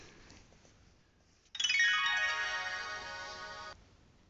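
Piano app on an iPod playing through its speaker after the headphones are unplugged: a bright sustained chord or run of tones rising and ringing for about two seconds over a faint room hiss, then cutting off.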